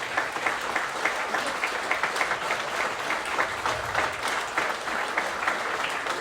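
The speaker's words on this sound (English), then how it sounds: "I think just a round of applause for him not being here" A football club awards night audience at Crusaders FC claps together in a round of applause, the clapping dense and steady, with slight swells, from start to finish.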